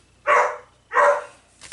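A dog barks twice, close and loud, with a softer yip trailing after the second bark.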